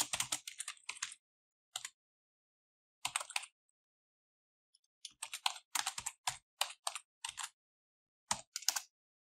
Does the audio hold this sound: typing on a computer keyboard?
yes